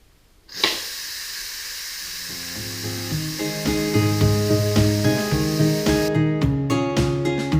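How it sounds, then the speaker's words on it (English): A pressure cooker pot cooking coconut curry chicken soup is vented, a loud steady hiss of steam bursting out and holding on, while a rhythmic musical pattern plays over it toward the end. "So what I'm going to do now is vent the pot so that you can open the lid."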